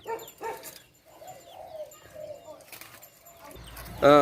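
Spotted dove chick giving a few short, soft cooing calls close by, separated by pauses, while someone speaks intermittently nearby.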